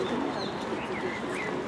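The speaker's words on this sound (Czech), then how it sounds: "Papoušci." Small green parrots call from trees in Brussels, their thin wavering cries rising above a dense outdoor murmur of city noise, fairly distant and continuous.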